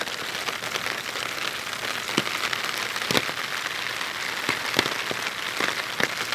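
Rain falls on a flooded street in São Vicente, a dense steady patter with sharp individual drops and splashes standing out close by, no voices.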